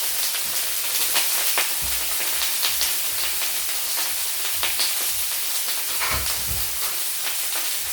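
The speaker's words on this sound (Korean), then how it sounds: "이렇게 물을 이제 살짝 부어줍니다" Water poured onto gun-mandu dumplings browning in a hot pan sets off a loud, steady sizzle and hiss with crackling spatters, and no voices.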